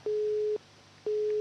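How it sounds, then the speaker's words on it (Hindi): A disconnected phone call gives way to a busy tone: two loud, steady, identical beeps with a pause between them, and nothing else around them. "फोन कट गया।"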